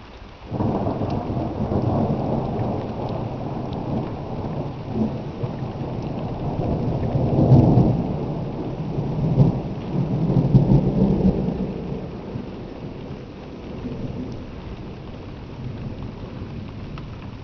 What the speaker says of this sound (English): Yeah, thunder.